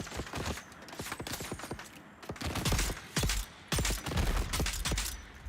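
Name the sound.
gunfire in Dune: Awakening video game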